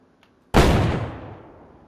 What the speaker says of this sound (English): Take your shotgun out and blast one time.